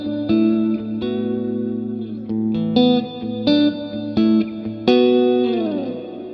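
Electric guitar plays chords and single notes through a Fender Marine Layer reverb pedal on its larger hall setting, each strike ringing out into a long, spacious wash of tail, loud and alone.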